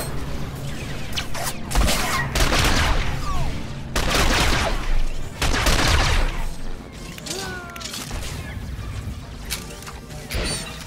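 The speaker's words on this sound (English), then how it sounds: "They're still firing at each other." Blaster gunfire trades back and forth in a Star Wars: The Old Republic battle, dense volleys of shots and crashing impacts filling the scene with only brief lulls, loud and continuous throughout.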